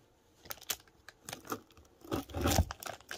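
A knife cuts straight through the middle of a chilli jam pork pie, making close crunching and crackling pastry sounds in uneven bursts that grow denser and louder toward the end.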